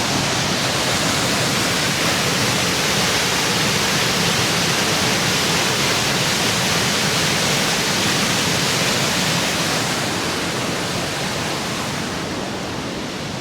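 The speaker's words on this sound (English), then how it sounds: "I don't quite know the name of this waterfall yet, but whoa, look at that coming down." A waterfall in remote Scotland pours down in a loud, dense, unbroken roar, close by and steady throughout, with no voices over it.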